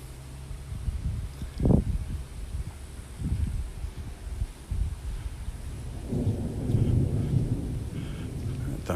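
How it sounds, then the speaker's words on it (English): Low, rolling thunder rumbles over the Gulf near a North Naples, Florida beach, with a louder swell early on and steady rain hissing throughout, growing heavier toward the end. "Thunder's way out in the Gulf now."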